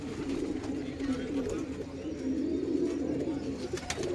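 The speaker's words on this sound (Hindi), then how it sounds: "ये पूरे ब्रीडिंग वाले कबूतर है दोस्तों।" Breeding pigeons in a loft coo steadily in a low, continuous warbling chorus, with someone talking over them throughout.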